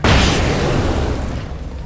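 A loud, booming explosion in the video game Alan Wake, bursting at once and rolling on as a dense rumble that slowly fades over about two seconds, with no talk over it.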